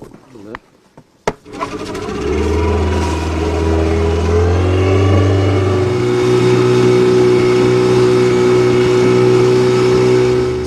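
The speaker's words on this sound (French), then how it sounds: "On va aller faire un tour en bateau avec Shamseddine." A few knocks and clatters, then a boat engine starts up and holds a loud, steady drone, rising slightly in pitch as it settles in.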